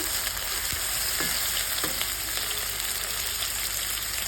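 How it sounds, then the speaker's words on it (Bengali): Dried shrimp lightly frying in oil in a pan give off a steady, dense sizzle, broken by a few soft scraping stirs, close up with no talking. "আমি চিংড়ি শুটকি দিয়ে কি রান্না করি দেখেন। হালকা একটু ভেজে নিন"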